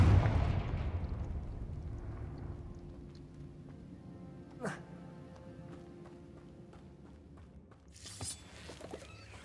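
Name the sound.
Confringo explosive fire spell cast in Hogwarts Legacy video game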